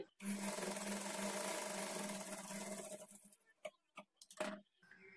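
A sewing machine stitches a blouse in one close, steady run of about three seconds, then stops and gives several short bursts as the fabric is repositioned.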